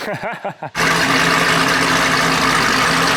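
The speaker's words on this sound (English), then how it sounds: "Naturally aspirated SS Camaro. And it sounds like that." Naturally aspirated SS Camaro engine starts idling after a brief stretch of talk, settling into a loud, steady, deep rumble that fills the rest of the clip close by.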